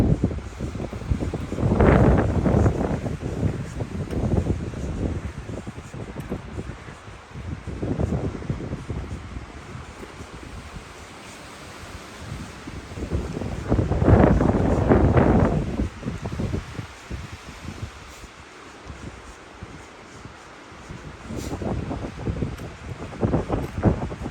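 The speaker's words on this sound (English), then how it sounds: "Today's a bit windy." Gusty wind blows on the Three Fingered Jack Loop mountain trail in waves, swelling into loud rushing bursts against the microphone, then easing to a softer steady breeze.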